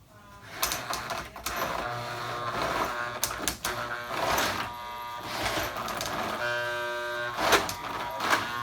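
A Marx 1666 toy locomotive running dry on its track, with a continuous mechanical whir and grinding rattle from unoiled gears and a few sharp clicks. The sound is close and steady and has no speech over it.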